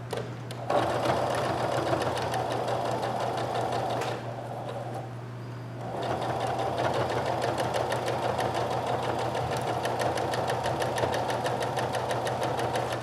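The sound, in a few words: sewing machine top stitching a sweatshirt pocket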